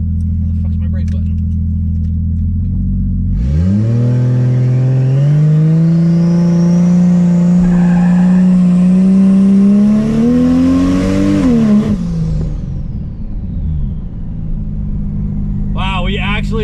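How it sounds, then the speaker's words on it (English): A Lexus IS300 fitted with nitrous idles loudly, then launches, its engine climbing in a long strained rev as the rear tires spin. The revs drop off near the end, and a brief squeal follows. "Wow, we actually just spun the back tires."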